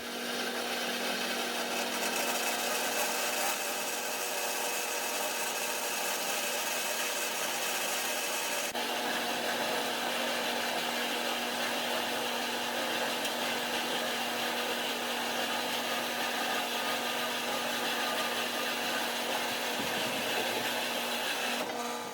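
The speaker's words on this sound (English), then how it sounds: "Over here, I'm gonna cut at a 45. I'm gonna miter all my cuts." A power saw cuts 45-degree miters through heavy angle iron in a weld shop, a loud, steady grinding whine with a constant tone that runs unbroken for over twenty seconds without talk.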